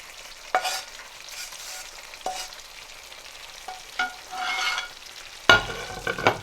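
Dried fenugreek leaves (kasuri methi) fry and sizzle in a pan for a paneer curry, with soft hissing broken by several scraping stirs and clatters of a utensil on the pan, close and without talk.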